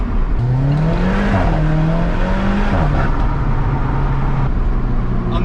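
An Alfa Romeo 4C sports car engine revs hard and loud, the pitch climbing and dipping through several blips before it settles into a steady, throaty drone, close by and alone.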